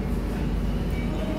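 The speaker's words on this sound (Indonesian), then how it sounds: "ini masuk dan berhenti di stasiun Semarang Poncol yang amat ramai" A Kamandaka passenger train pulls into Semarang Poncol station in Indonesia, giving a steady, close, low rumble of wheels and carriages without any clear break or voice.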